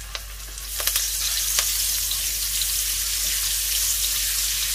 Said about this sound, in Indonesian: bumbu yang kita haluskan tadi, bawang putih sama kemiri ditumis